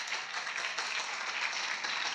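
Church congregation clapping hands in worship, a dense, even patter of many hands continuing steadily at moderate volume with no talk.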